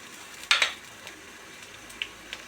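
A paste of ginger, cumin and coriander goes into hot oil with onions and garlic, giving a short sizzle burst followed by faint frying crackle and a few light utensil clicks.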